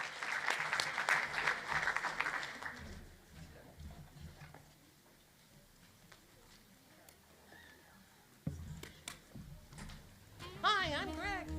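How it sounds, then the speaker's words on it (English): Applause from an audience at an economic forecast panel session rises at the start and tapers off, then a quieter stretch follows and a voice begins speaking near the end. "Let's give him a big round of applause"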